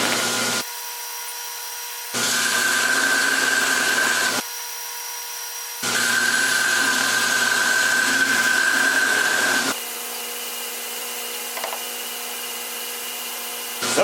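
A belt grinder with a coarse belt grinds titanium in two long loud bursts of harsh abrasive rasping, with a quieter machine hum in the gaps and after.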